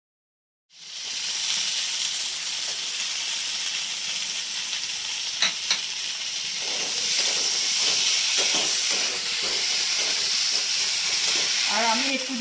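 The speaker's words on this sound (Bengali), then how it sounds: "এই মশলাটা আমার কষানো হয়ে গেছে। এর মধ্যে আমি টমেটোগুলো দিয়ে দেবো।" Tomatoes go into a pan of frying ginger and chili spice paste for a Bengali fish curry, producing a steady, loud sizzle and hiss that runs continuously, with faint stirring clicks near the end.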